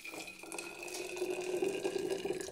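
Water running into a glass bottle with rice grains inside, during a bottle-cleaning routine at a sink; a steady close pour whose pitch rises as the bottle fills, with no voices.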